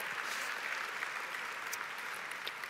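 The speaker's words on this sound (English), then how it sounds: "Why don't we give him a round of applause?" Applause fills the room at a church service, a steady, dense wash of many hands clapping that holds evenly throughout, close and sustained with no talking over it.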